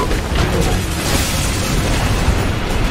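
Dota 2 middle tower of the Dire side being destroyed, a dense continuous rumble of booming explosions and crackling bursts, loud and close with no pause across the whole stretch.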